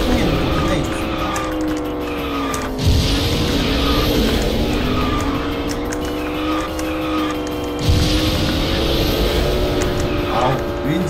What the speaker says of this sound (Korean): 유엔진의 이 엔진 소리